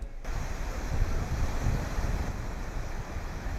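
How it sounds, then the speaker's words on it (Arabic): Strong wind blowing sand through the historic Bab Doukkala gate entrance in Essaouira, a continuous rushing roar with heavy low buffeting on the microphone, steady and fairly loud throughout without speech. "حيث تتسبب التيارات الهوائية القوية في إثارة الرمال وحملها نحو مدخل الباب التاريخي"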